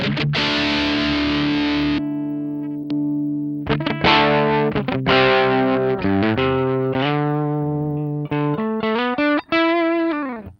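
An electric guitar played through a DS-1 distortion pedal gives loud, heavily distorted chords and riffs with sustained, saturated tone and brief pauses between phrases.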